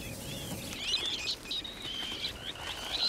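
Several birds chirp and tweet in quick, high-pitched bursts, moderately close, scattered across a soft background hiss.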